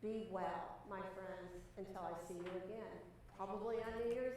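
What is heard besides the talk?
No everyday noise stands out behind the speech.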